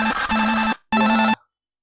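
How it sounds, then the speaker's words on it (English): An incoming-call ringtone on a phone plays two loud, close electronic tonal bursts separated by a short gap, with no voices. "I got a phone call."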